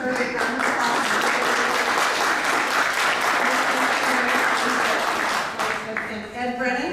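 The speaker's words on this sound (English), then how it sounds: "Let's give her a big round of applause." An audience at an innovation contest event gives a round of applause, dense steady clapping that fades near the end as a speaker's voice resumes.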